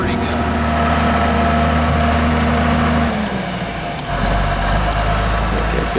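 Skid steer loader working during land clearing, pushing out tree stumps, with a loud steady diesel engine drone close by that shifts pitch partway through as the machine works.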